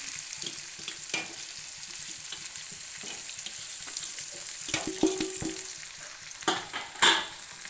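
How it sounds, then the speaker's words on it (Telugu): Fish hitting hot oil in a frying pan for a Telugu fish curry make a steady close sizzle, with scraping stirs and a few sharper sputters toward the end. "ఇప్పుడు చేపలు వేసుకుందాం."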